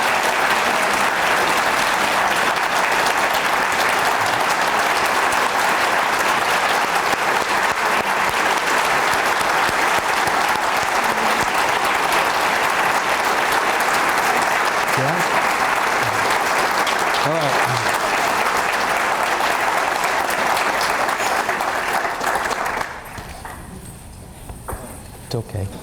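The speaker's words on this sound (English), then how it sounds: "I'm going to have you just show a round of support, a loud, strong clap support" An audience at a foundation panel breaks into loud, strong sustained applause, a thick wall of clapping lasting over twenty seconds before cutting off abruptly near the end, leaving a quiet room with a few faint sounds.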